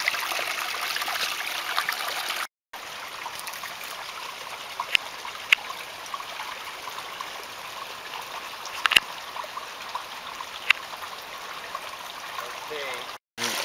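Small garden waterfall spilling into a set of three ponds, a steady close trickle and splash running continuously, with brief dropouts and a few faint clicks.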